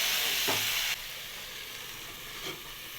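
Cabbage chorchori cooking in a pan, with a continuous hiss that drops in level partway through and a couple of faint clinks of stirring.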